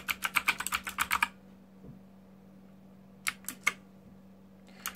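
Quick bursts of clicky keystrokes on a Rantopad MXX mechanical keyboard, a rapid run of about a dozen presses, then a pause with a faint hum before two shorter clusters of taps, close and fairly quiet.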